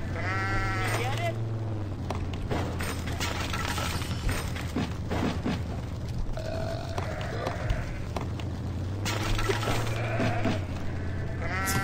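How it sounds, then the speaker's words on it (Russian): Sheep in a racing video game bleat in repeated wavering cries over a steady game soundtrack and crash noises, loud and close throughout, while a player keeps talking. "Всякие овцы."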